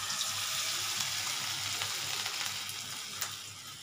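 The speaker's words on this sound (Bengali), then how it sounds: "ঠিক আছে, আমি এবার বড়াগুলো ছাড়ছি।" Kathali banana fritters fry in hot oil, giving a steady, close, loud hiss and crackle with no talking.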